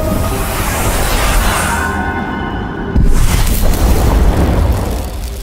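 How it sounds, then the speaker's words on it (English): The spirit blast power in the video game The Medium produces a loud, dense rumbling boom that swells and then bursts sharply into a second wave of roaring energy, with no talk. "Another of your powers is the spirit blast."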